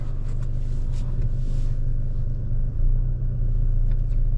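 A steady low engine rumble from a 2004 Toyota Camry as it drives, constant and close with no voices.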